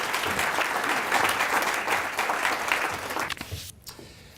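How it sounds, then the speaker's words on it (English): Audience applause fills a room at a business excellence awards gala dinner, a dense, steady clatter of many hands that thins and fades out over the last second. "Let's give them a nice round of applause."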